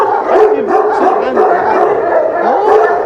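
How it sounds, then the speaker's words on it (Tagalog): Dogs in a kennel bark and yip repeatedly in overlapping, loud bursts close by, with occasional whimpers among the barking. "sobrang lakas ng tahulan ng mga aso"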